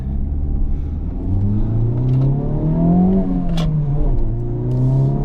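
A 2023 Honda Civic Type R with a manual gearbox driving, its engine droning steadily from inside the cabin with pitch rising and falling through revs and a gear change, alone without talk.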